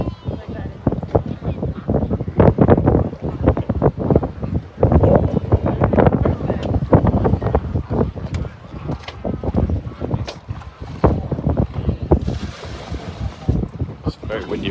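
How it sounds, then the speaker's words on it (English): Strong sea wind buffets the microphone from start to finish near a boat offshore, a loud continuous rumble with gusty surges, while people talk over it. "It's very windy around here, actually."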